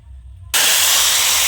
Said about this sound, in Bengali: কড়া গরম হয়ে গেছে, ডিম ভাজবো।